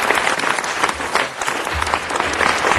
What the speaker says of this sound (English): So let's give Antonio a round of applause before he shows up.